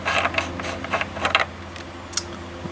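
Car engine oil cap being unscrewed by hand, giving a few close creaking, ratcheting turns in quick bursts before the twisting fades into a quiet hum.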